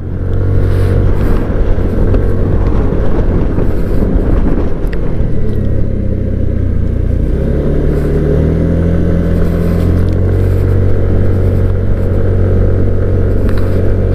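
A strong, steady wind roars across an open road in San Nicolas, Pangasinan, buffeting a motorcycle rider: continuous loud, low rumbling gusts, close to the microphone, with no pause.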